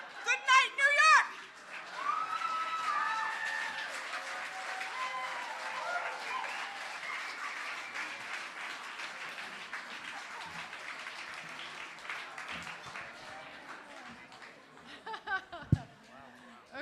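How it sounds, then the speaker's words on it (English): A comedy show audience breaks into loud, sustained clapping and cheering, then it gradually fades, with a few voices and laughs mixed in near the end. "I think that deserves another round of applause"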